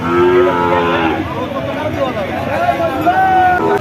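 Calves and cattle moo loudly and repeatedly at a busy livestock market selling Sahiwal, Sindhi, Friesian and local-breed bulls and calves, with lowing calls over a constant hubbub of crowd chatter and talk.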